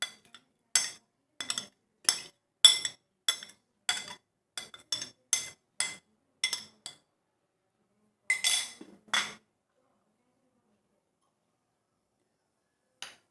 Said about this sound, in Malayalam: ഇതിലേക്ക് അരിഞ്ഞു വെച്ച മല്ലിയില, പച്ചമുളക്, ഉള്ളി എല്ലാം മിക്സ് ചെയ്യുക.